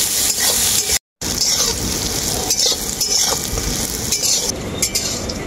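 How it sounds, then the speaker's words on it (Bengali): Soya chunks seasoned with salt and turmeric fry loudly in hot mustard oil in a kadai, a steady dense sizzle with stirring scrapes, broken by a brief gap of silence. "সয়াবড়িটাকে আমি খুব ভালো করে ভেজে নেব।"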